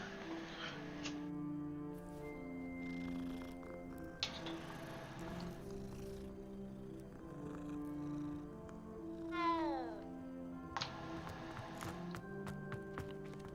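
A cat meows several times in the video game Hogwarts Legacy, short tonal cries scattered between soft game music and ambience, fairly faint, with one rising, wavering call near the middle.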